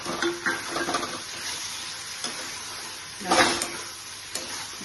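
Paneer pieces are added to a spiced curd and cashew masala in hot oil, giving a quiet sizzle with occasional soft scrapes and stirring clatters, faint and close.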